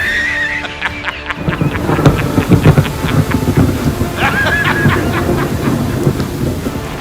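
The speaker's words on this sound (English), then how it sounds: "maybe we can wait out the rain. I don't know, but it's coming down pretty hard." Heavy rain pours steadily with gusting wind during a summer thunderstorm in Montreal, a dense continuous hiss with scattered thumps and rumbles, loud and close throughout.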